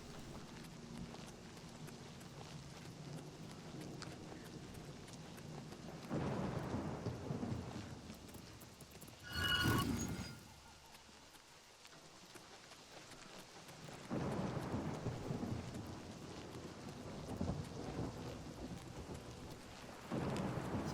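A thunderstorm in the fantasy game Oblivion Remastered: steady rain hiss with deep rolling thunder swelling and fading several times, one sharper crack near the middle, no talk.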